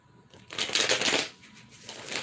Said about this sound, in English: I like the way these cards feel when they shuffle.